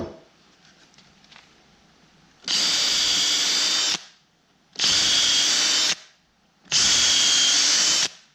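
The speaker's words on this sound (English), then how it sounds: "Now I got to drill those all the way through and I'll go to the next one." A power drill bores holes through wooden bed-frame boards in three loud, close bursts of high whine, each lasting about a second, with short quiet gaps between them.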